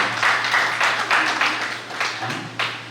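A crowd at a Guru Purnima festival gathering in Vrindavan claps for an aunt in rhythmic, fairly loud bursts of roughly even beats, with a low steady hum underneath and a brief voice near the end.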